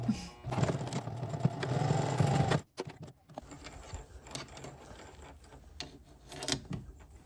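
A sewing machine stitches straps onto a smocked summer dress, running in a steady mechanical whir for a couple of seconds before stopping, followed by quieter handling clicks and rustles.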